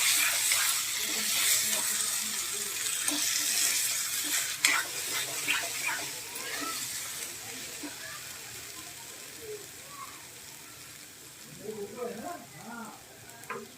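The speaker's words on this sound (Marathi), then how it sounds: "आपली कोलंबी छान फ्राय होते आहे मसाला फ्राय होतोय" Continuous crackling sizzle of prawns frying in oil, with stirring noises and a few bubbling pops near the end, close by without talk.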